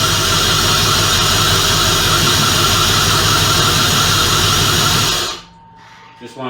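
A stock car engine idles roughly with no throttle applied, a loud, steady, shaking drone that runs continuously, then cuts off abruptly near the end, leaving near silence with a few faint clicks.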